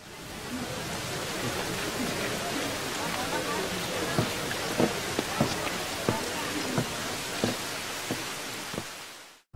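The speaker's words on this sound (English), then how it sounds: "Only the sound of rain can be heard" Rain falls steadily in an anime scene, a constant soft hiss with scattered heavier drops tapping through the middle, ending abruptly.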